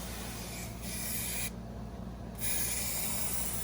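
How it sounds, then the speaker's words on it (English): Spray adhesive hisses in short, quiet bursts onto upholstery foam and seat backing while a wake boat seat is being re-skinned, with brief pauses between passes. "You spray a little bit on the foam and the backing, right?"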